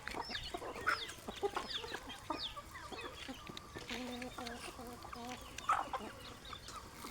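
Several chickens cluck and squawk close by in a busy, overlapping chorus, with soft rhythmic clucking and occasional sharper calls.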